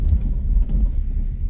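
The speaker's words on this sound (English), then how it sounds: "I am gonna hit this bump kind of fast" Low, steady road rumble inside a 1963 Oldsmobile Cutlass F85 with a slight jolt partway through as it hits a bump fairly fast, close and muffled, no voices.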